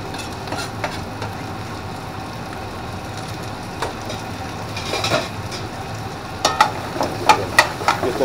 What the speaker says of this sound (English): Caramelizing the onions with dry leaf thyme.